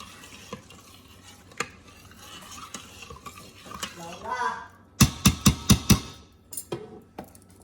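A spoon stirs rice with olive oil in an Instant Pot on the sauté setting, starting with soft scraping and a faint sizzle, then ending in a quick run of loud, sharp clanks against the metal pot, with a voice speaking briefly.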